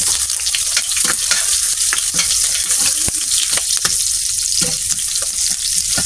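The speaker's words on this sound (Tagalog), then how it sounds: "So igigisa na natin yung ating bawang. Tapos sunod natin yung ating sibuyas." Garlic and onion sautéing in a pan, a loud continuous sizzle with frequent crackles and stirring scrapes, close up and without talk.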